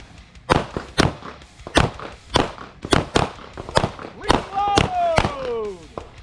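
Pistol shots ring out in quick bursts of two to four during a defensive pistol class drill at a shooting range, sharp, loud cracks with pauses between volleys while instructors shout commands and one voice whistles or calls out.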